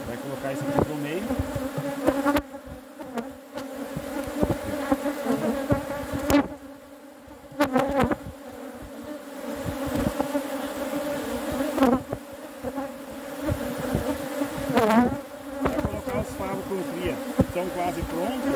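Honey bees buzz around an open hive during an inspection, a dense, steady drone close by, with occasional handling bumps and clatter from the hive equipment.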